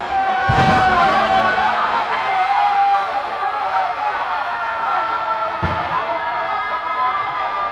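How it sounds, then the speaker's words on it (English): Synthetic crowd effect of people cheering or screaming, a steady loud roar of many voices with tonal music blended in and a couple of brief thumps. "I don't know if people are cheering or they're screaming for their lives."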